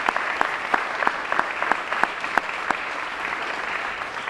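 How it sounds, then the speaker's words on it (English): An audience at a college expansion announcement applauds the governor, a steady, full wash of clapping with a few sharper individual claps standing out rhythmically, loud and sustained throughout. "How about a round of applause for our governor?"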